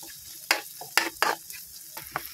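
Garlic frying in a pan alongside pork liempo, a steady sizzle broken by several loud scraping stir strokes in uneven rhythm, close by with no talking.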